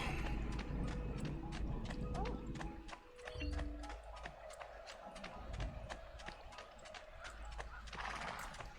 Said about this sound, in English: we got a horse